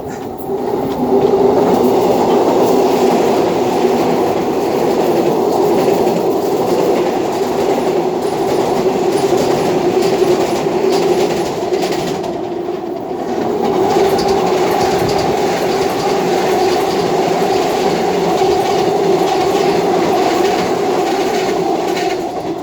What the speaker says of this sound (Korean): 지하철 2호선이 요란하게 통과하고 있는 잠실철교에서